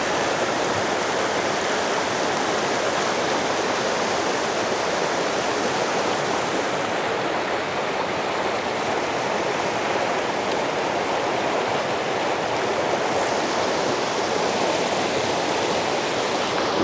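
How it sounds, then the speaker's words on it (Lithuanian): A mountain river runs through snowy forest in the Romanian mountains, producing a dense, constant rushing roar of water that holds steady throughout, with no voices. "Upė tiesiog teka ir tie."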